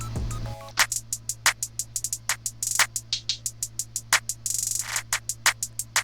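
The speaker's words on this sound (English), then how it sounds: "Then I went on to do the hi-hat." A drum-machine hi-hat pattern from a beat plays alone after a short bass tone, crisp ticks falling in quick irregular bursts with a couple of fast rolls and open hats, against a faint low hum.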